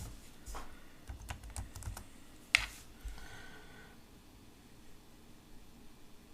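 A computer keyboard is typed on in a quiet room, a short run of close, crisp key clicks with one sharper tap, fading into soft background hiss.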